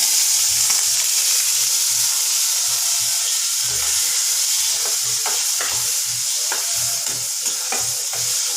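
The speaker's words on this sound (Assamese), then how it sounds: "দি পেলাই এতিয়া মই আলু আৰু চয়াবিনখিনি অকণমান সময় ফ্ৰাই কৰি ল'ম।" Potatoes and soybean chunks fry in hot oil with turmeric and salt, giving a loud, steady, close sizzle throughout with soft low bubbling pops underneath.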